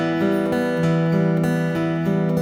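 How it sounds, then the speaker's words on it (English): Guitar fingerpicking in a steady eighth-note triplet pattern over a simple chord progression, with quick evenly spaced plucked notes ringing together. The playing is close and clear, with no voice. "same left hand, but this time I'm going to do triplets."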